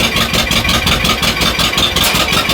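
A truck engine idles on a snowy day, a loud, close, steady low chugging rumble with a regular pulsing beat and no voices over it.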